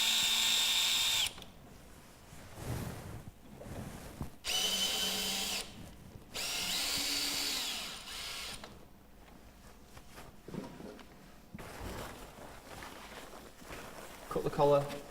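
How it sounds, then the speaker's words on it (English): A power drill loosening screws on a Duratech roof window fitted to a profile tile roof, heard as several short, close whirring bursts with pauses and some handling noise between them. "just loosen off these screws so that you can put the collar under the button"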